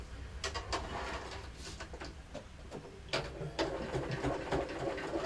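A sewing machine stitches a seam in short bursts, its quiet rapid needle clatter starting and stopping repeatedly against a noisy workshop background, with no talk.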